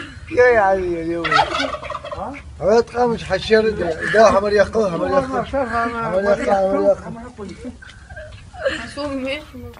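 A pet turkey gobbles repeatedly in loud, warbling bursts close by, its rapid chortling calls filling the whole stretch with only brief pauses between.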